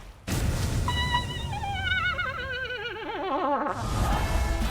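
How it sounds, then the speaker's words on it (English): A game show contestant's scream, slowed down, turns into a long, loud, warbling wail that slides downward in pitch over a few seconds, over a rumbling background. "if you slow down, her scream actually sounds like this."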